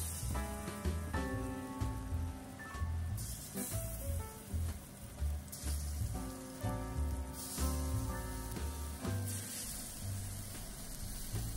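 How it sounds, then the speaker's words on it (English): Beef pieces brown in avocado oil in a saucepan with a constant crackling, rain-like sizzle heard under music with steady tones and beats. "Brown the meat in a small batch, no matter what beef cut you choose."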